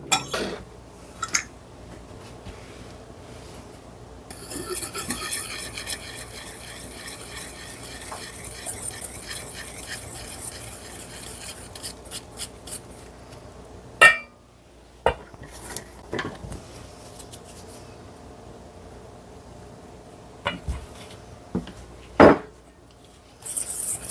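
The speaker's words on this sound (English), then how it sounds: "So you're going to just stir it up until it's completely mixed." A homemade deodorant mixture is stirred in a container, a soft continuous scraping swirl close by, punctuated by a few sharp clinks and taps of the utensil against the sides.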